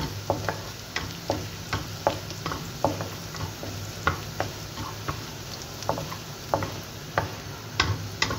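Garlic frying in a pan for homemade fried rice, with a steady crackling sizzle broken by regular stirring scrapes and taps about every half second, close and continuous with no talking.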